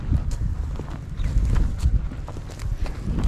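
A desi breed mare walks forward, hooves clip-clopping in an uneven steady rhythm on the ground, close and clear with no talking.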